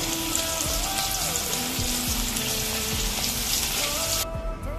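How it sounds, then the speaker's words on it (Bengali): Okra chips frying in hot oil, a steady dense sizzle that runs through the whole stretch at close range, with faint clinks and a slight drop near the end. "একে একে বাকি চিপস গুলো ভেজে নেব"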